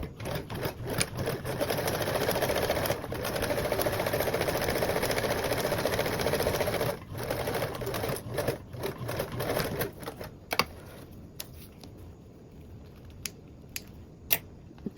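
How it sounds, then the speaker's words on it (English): Sewing machine stitching a quarter-inch seam on a circle bag: a steady, close motor whir with a rapid needle rattle for about ten seconds, then stopping, followed by scattered clicks and handling noises. "Okay, so sewing with a 1/4 seam allowance."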